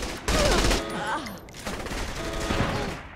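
Video game gunfire from Saints Row: The Third, sharp bursts of shots and loud crackling volleys scattered across a few seconds, with game sounds and some voice activity mixed in around them.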